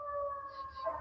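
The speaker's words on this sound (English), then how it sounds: "So I apologize for the sirens" A faint, steady siren wails in the distance out in the wilderness, its tone holding level for the whole second.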